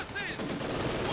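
A machine gun fires continuously in a Company of Heroes 2 battle, a dense, steady rattle of rapid shots mixed with other game battle noise throughout.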